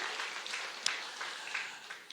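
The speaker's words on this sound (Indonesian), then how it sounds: "Tepuk tangan bagi Tuhan kita, saudara." Church congregation clapping for God during a sermon, a moderate, fairly even spread of claps with a few sharper individual hits standing out briefly.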